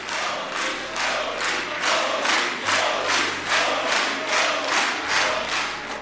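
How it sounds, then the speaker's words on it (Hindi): Members of the Israeli parliament clap and chant Modi slogans in a steady rhythmic beat, about two claps a second repeating evenly, with crowd voices underneath. "तालियां बजा भी रहे थे इजरायली पार्लियामेंट के मेंबरान, और मोदी के नारे भी लगा रहे थे"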